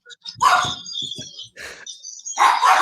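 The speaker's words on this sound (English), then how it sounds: "when someone else comes home, the dogs just go crazy." Dogs break into a burst of excited barks and yips as someone arrives home, loud and close, in short clusters with brief gaps.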